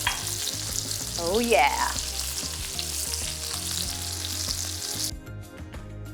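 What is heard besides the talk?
steak searing in a hot skillet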